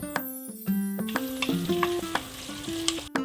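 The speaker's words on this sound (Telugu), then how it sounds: "పొడవుగా కట్ చేసుకున్న ఆనియన్స్ వేసుకుందాం ఉల్లిపాయలు వేగిన తర్వాత పచ్చిమిర్చి చీలికలు కరివేపాకు వేసుకుందాం" Onions, cashews, ginger, green chilies and curry leaves frying in oil, a close crackling sizzle with a few sharp ticks of stirring, under a melodic tune that plays throughout.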